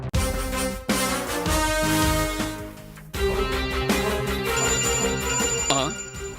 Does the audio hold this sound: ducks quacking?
no